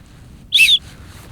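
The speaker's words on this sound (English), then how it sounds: "This thing, you see this clip? It's got a whistle in it." A whistle built into a backpack strap clip, blown on a multiday hike up Mount Bogong, gives one short, shrill, high blast of about a quarter second, loud and close over a quiet outdoor background.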